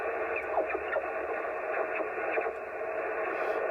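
Steady hissing radio static from a Kenwood TS-50 transceiver on 40 metres, with faint warbling tones and crackles, continuous and fairly quiet, with no voices.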